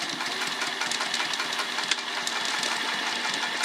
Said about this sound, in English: Now let's sew those short ends.